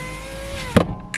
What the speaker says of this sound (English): my window wheel lifter is working kind of funny. I have trouble lifting it up.